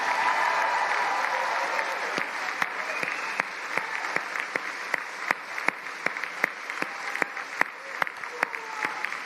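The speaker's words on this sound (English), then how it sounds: "could I ask you just for one last round of applause for the class of 2025?" Sustained audience applause for the graduating class of 2025 at an engineering and technology conferring ceremony, a dense steady wash of many hands clapping with sharp individual claps standing out, slowly thinning toward the end.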